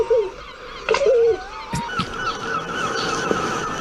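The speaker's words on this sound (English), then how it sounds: "I hear geese in the background." Geese honk from a distance, a few nasal calls over a noisy outdoor background.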